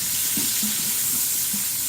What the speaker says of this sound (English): I'll get a wooden spoon, and I just want to mix it around a little bit